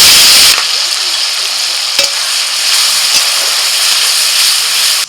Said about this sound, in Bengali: ওই তেলের মধ্যে ফোড়নে দিচ্ছি এলাচ, দারচিনি, লবঙ্গ, পেঁয়াজ বাটা,